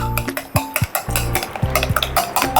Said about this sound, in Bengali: এবার ভালো মতন করে এটা ফেটিয়ে নিতে হবে ডিমের সাথে।